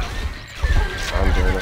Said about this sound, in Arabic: خيولنا جاهزة